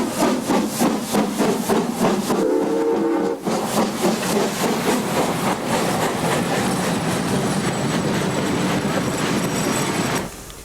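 The Flying Scotsman steam locomotive runs in the outback near Alice Springs, giving a loud, continuous rumble with rhythmic clanking and clattering wheels that fills the scene and then drops away abruptly near the end.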